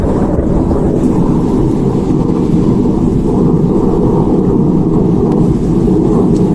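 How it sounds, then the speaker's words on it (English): Deep rolling thunder rumbles continuously at a steady level, mixed with wind buffeting an outdoor microphone and possible rain, with no talking. "Thunder."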